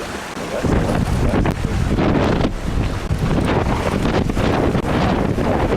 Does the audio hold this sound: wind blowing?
yes